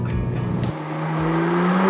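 A BMW M2 Competition with an S55 engine and a Valvetronic exhaust, valves open, revs up close: a steady engine drone dips briefly, then climbs again into a rising, throaty tone.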